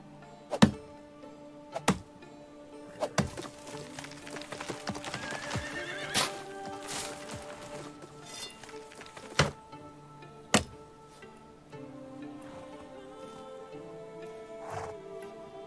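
Horse hooves clip-clop with repeated sharp impacts while a horse neighs and whinnies in the medieval survival game Medieval Dynasty, the sounds close and moderately loud over a quiet ambient background.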